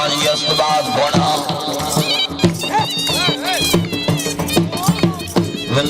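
A dancing horse at a Jashan e Mola Ali festival gathering in Kabeerwala clip-clops its hooves in rhythmic bursts, mixed with loud music and a voice over a crowd.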